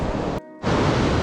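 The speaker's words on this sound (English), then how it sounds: "We almost just got washed away by these waves that are coming in." Ocean waves surge loud and close onto a beach on New Zealand's South Island, a dense roar that drops out briefly before crashing back in.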